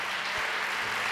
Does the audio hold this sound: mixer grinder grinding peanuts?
no